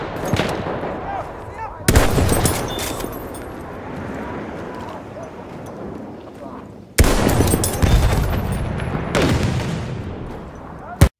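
Artillery and gunfire in the video game Battlefield 1, heavy booming blasts that hit suddenly at intervals and are followed by dense, sustained rumbling battle noise.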